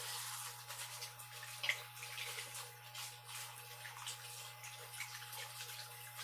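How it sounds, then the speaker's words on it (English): Hands scrubbed with soap under a running tap at a bathroom sink, a steady low water rush with faint splashing and a steady hum beneath, no talking. "And then I go wash my hands. So let's wash those. Got some soap."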